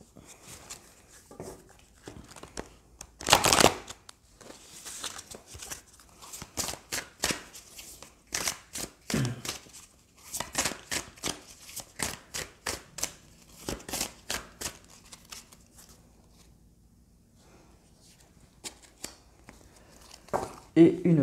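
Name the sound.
shuffling Tao oracle cards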